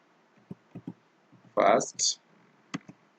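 A computer keyboard being typed on, a handful of scattered key clicks with a couple of louder clattering presses in the middle, close and fairly quiet.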